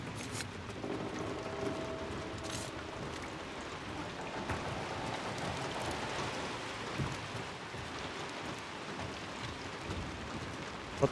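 Rain pours in a video game as a steady, fairly faint wash of hiss, with a few scattered clicks and thuds and no voices.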